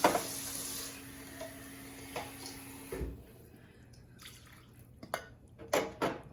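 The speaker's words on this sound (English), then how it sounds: "I'm gonna go ahead and just rinse out my cans to get as much of that coconut milk goodness" Water trickles and drips as coconut milk cans are rinsed into a soup pot in a kitchen, with a short run of water early on, then scattered sharp clinks and drips; faint and close.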